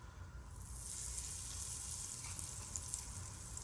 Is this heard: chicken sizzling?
yes